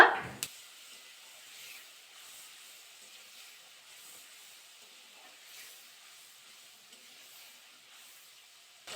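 Dissolved spice paste hits a hot pan of tempered oil while making a Bengali vegetarian cabbage dish: a brief sharp burst at the start settles into a faint, steady hiss.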